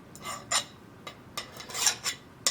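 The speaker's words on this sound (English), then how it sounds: "Just running the file over it." Metal file deburring small lathe quick-change tool post parts, a few separate rasping strokes at an uneven pace, close but fairly soft against a quiet workshop background.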